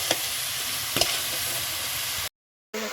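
Boiled jackfruit and fried potato tossed with spices in a hot pan, giving a steady close sizzle with a couple of spoon knocks before a short silent cut.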